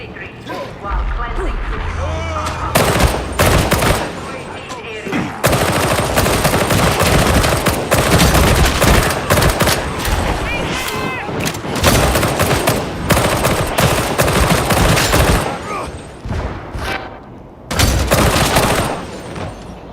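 Dense, loud gunfire rattles almost nonstop in Warhammer 40K Darktide, with rapid automatic bursts, mechanical clatter and brief pauses, while game voices speak over the shooting.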